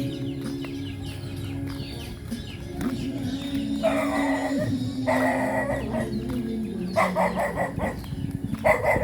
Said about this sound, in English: Some guard dogs are objecting to the fact they're walking through the street.